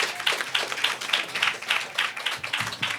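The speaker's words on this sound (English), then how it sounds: "So round of applause for everyone." A small crowd claps at a winners announcement for a music-making competition heat, a quick, steady patter of hands that stays near and even for a few seconds.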